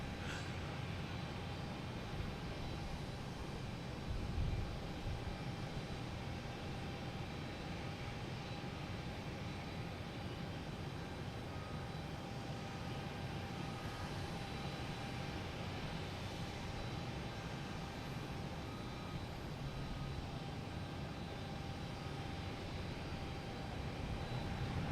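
A Korean Air airliner at Boston Logan Airport gives off a faint, distant, continuous engine rumble and hiss that stays level throughout, with no talk.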